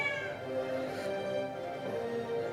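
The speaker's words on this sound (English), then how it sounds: "Somebody let my cat in." Domestic cat meowing indoors, a couple of drawn-out harmonic meows close by with no talk over them.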